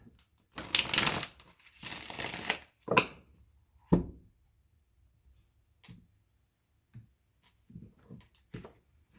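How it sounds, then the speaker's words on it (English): Two bursts of riffling tarot card shuffles up close, followed by a few soft taps and shuffling handling sounds in near silence. "One more shuffle and then I'll cut."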